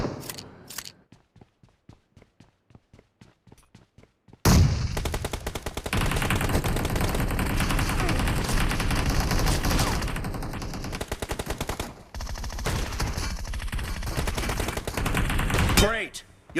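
Rapid bursts of automatic gunfire in a team shooting video game, preceded by a few sparse single shots, then a dense, loud sustained volley that continues almost unbroken to the end, with a short voice line.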